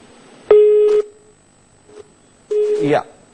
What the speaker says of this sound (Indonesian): maaf sekali sambungan telepon dengan kontributor Metro TV M. Rizky terputus